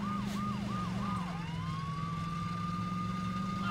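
A police car siren in the video game Saints Row 2 wails in quick repeated sweeps, then settles into a long rising tone before the rapid cycling resumes, over a steady engine drone.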